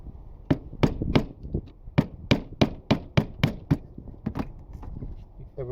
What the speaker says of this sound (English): I use a screwdriver and a hammer.